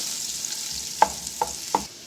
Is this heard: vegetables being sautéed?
yes